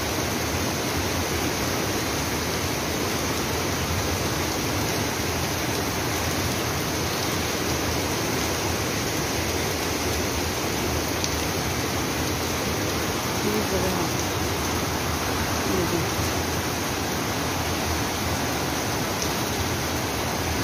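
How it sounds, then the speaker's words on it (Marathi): A flooded river in Dapoli rushes after heavy overnight monsoon rain, a steady, dense roar of water that holds at an even level for the whole stretch, close by and unbroken. "पाऊस भरपूर पडलेला आहे, त्याच्यामुळे नदीला भरपूर पूर आलेला आहे"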